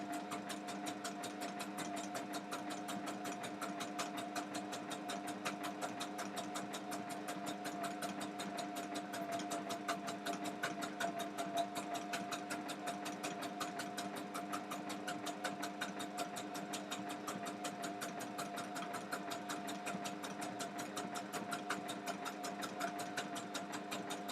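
A sewing machine runs a zigzag stitch while making a pen wrap, with the bobbin running low, a fast continuous mechanical whirring and rattling hum that holds steady throughout, fairly close and without talk.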